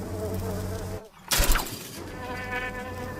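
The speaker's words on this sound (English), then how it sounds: "And if the buzzing increases, it will raise the alarm." Bees buzzing close by at night near an elephant testing a beehive fence, a continuous insect drone broken by a brief dip and a sudden louder burst of activity.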